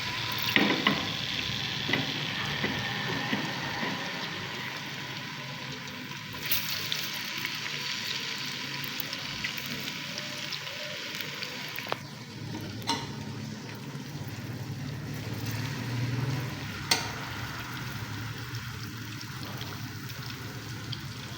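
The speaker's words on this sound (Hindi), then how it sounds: "अब हम इसमें प्याज शामिल कर देंगे" Onions frying in about a cup of cooking oil in a pot while being stirred, a steady hiss and sizzle with occasional scraping knocks from the spoon, close and continuous, with no talking.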